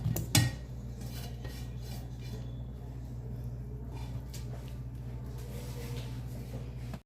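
Banana pieces go into a pressure cooker for undhiyu with a metallic clatter at the start and light scraping and knocks of utensils against the pot, over a steady low hum and some quiet speech.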